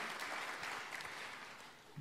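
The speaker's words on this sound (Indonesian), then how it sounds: "berikan tepuk tangan yang paling meriah buat Yesus Tuhan" Congregation applause for Jesus during an online church service, a soft, somewhat distant patter of clapping that lasts about two seconds and fades slightly toward the end.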